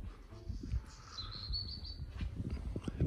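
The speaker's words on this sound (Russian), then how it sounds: "Птички вон песенки поют." Small birds chirp and sing in a windy seaside garden in spring, their thin, high calls faint and intermittent over steady wind rumble and nearby handling noises.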